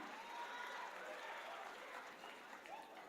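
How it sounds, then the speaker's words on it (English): A crowd at a sports awards ceremony in Muscat, Oman, gives a round of applause for young girl performers. The clapping is moderately distant and sustained, with faint voices mixed in. "One more round of applause for these young girls with so much of spirit and energy"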